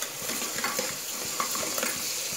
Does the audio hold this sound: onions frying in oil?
yes